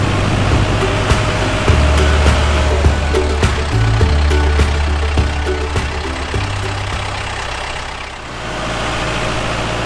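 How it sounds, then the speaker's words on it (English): A big red farm tractor engine runs close by, a heavy low idling rumble with shifts in pitch as it works, steady and loud throughout. "Out comes the big red tractor."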